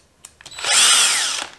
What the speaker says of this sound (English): So first I just stripped out these holes by drilling them in all the way,